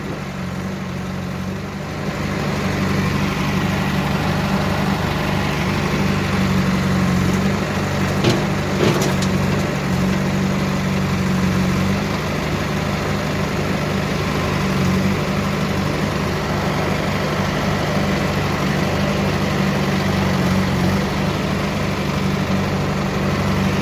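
A JCB loader and a tractor run steadily nearby while loading soil, a continuous low engine drone with a rumbling hum and a few brief knocks and clatters partway through, no talk.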